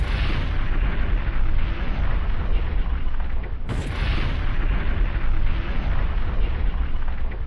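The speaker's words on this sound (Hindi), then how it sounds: "पोखरण में एक नहीं बल्कि 3 धमाके होते हैं।" A dense, continuous roar of heavy rumbling booms from three nuclear test explosions at Pokhran, India, loud and sustained, with a sharp burst partway through.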